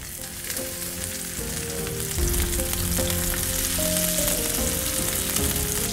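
Lamb chops frying in a coated pan, a steady broadband sizzle that grows louder partway through and holds, with no talking, under light music-like tones.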